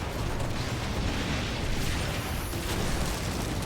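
Ship cannons fire during a naval battle in the video game Skull and Bones, a dense, loud wash of booming blasts and rumbling noise that stays constant throughout.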